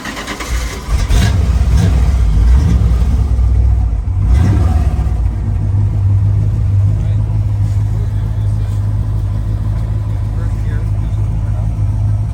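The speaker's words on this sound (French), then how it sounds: "Premier tour de roue en Cuda, ça tape de partout à l'arrière" A Plymouth Cuda's engine starts up and runs loudly with a steady, heavy rumble, revving briefly as the car gets moving, with people talking over it.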